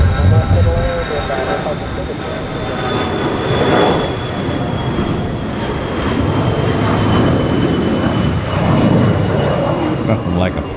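A private jet comes in to land on a gusty crosswind day, its engines giving a loud, steady roar and whine that holds close for about ten seconds, with a thin high tone running over the rumble.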